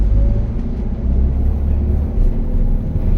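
Toyota Avanza 1.2 engine running after a gear change while driving slowly through traffic over humps, heard as a steady low rumble with slight swells in loudness, no talking.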